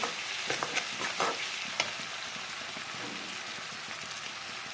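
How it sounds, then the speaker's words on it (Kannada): Chopped tomatoes sizzle and fry in a pan for poha, giving a steady, crackling hiss broken by a few soft scraping stirs, close and moderately quiet with no voices. "ಫ್ರೈ ಮಾಡೋಣ."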